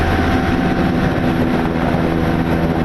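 Loud, continuous engine and rotor drone from a combat helicopter, a Danish Merlin, during a military operation, heavy and close with a steady hum and no break.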